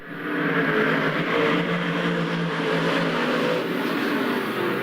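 Eight modified race cars on a track during a qualifying heat make a continuous, loud engine roar that swells and holds as they pass, with no talk over it.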